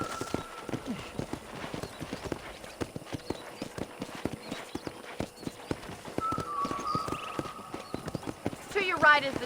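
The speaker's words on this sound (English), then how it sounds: "let's see if you can still ride a horse" Horse hooves clip-clop steadily at a brisk riding pace in Red Dead Redemption, a regular train of sharp, close hoofbeats over quiet ranch ambience, with a voice speaking faintly and a brief whinny near the end.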